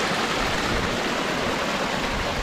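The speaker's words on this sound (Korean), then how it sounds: "이곳은 저 위에 온천수가 흘러내려서 조그마한 폭포를 이루고 있죠" A small waterfall of hot spring water pours down at an open-air hot spring bath, a steady, loud, dense rush of falling water that runs alone for the whole moment.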